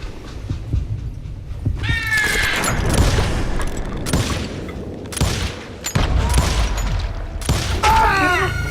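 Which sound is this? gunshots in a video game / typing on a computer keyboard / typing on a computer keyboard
gunshots in a video game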